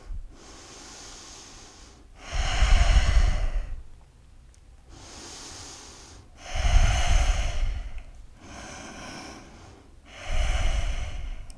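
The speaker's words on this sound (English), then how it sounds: "3 more of the slowest, deepest breaths you've taken so far" Slow, deep breaths during a yoga session, three long loud exhales spaced evenly with quieter inhales between them, close to the listener.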